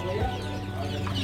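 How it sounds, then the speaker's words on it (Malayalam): Colourful chickens clucking steadily at close range inside a pet shop that also keeps budgies and lovebirds, over a constant low hum of background noise. "ഇത് കളറുള്ള കോഴികളുണ്ട്."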